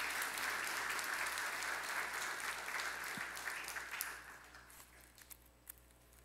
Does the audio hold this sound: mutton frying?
no